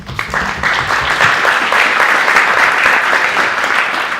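Steady applause from an audience for a panel of investors at a startup event, loud and sustained for several seconds.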